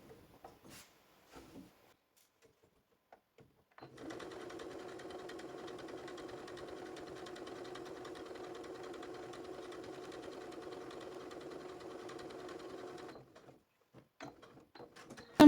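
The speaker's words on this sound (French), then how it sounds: "Et je vais venir donc piquer au plus près avec l'aiguille." A sewing machine stitches close along a homemade piping cord, its needle running in one steady, even burst of about nine seconds, with light clicks and handling noises in the quiet before and after.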